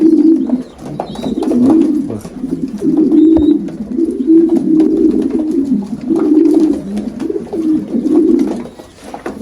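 A Spanish breed pigeon coos loud and close in repeated rolling phrases, one after another without pause, with no voices.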